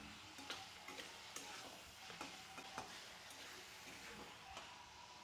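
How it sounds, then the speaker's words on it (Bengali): Chicken pieces fry in a pan, giving a steady soft sizzle broken by irregular clicks and taps of stirring, fairly quiet and with no talk. "এরপর এটাকে ভাজতে থাকবো 3 থেকে 4 মিনিট।"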